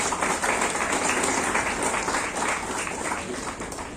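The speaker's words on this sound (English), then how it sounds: "Can we give all three of them a round of applause, please?" Audience at a football team jersey unveiling giving a round of applause for guests, a dense, loud, sustained wash of clapping that tapers slightly near the end, with no talk.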